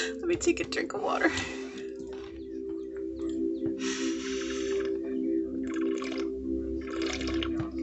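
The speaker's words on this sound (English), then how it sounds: "Let me take a drink of water." A person takes a drink of water at close range, with a few soft sips, gulps and breaths in short bursts over a steady low hum.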